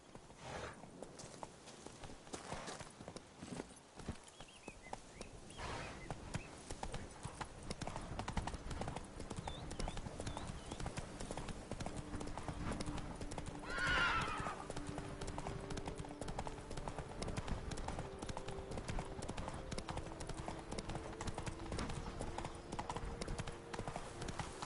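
Geralt's horse Roach in The Witcher 3 moves at a steady pace, with continuous rhythmic hoof clip-clops running throughout and a brief whinny near the middle, set against a constant game ambience.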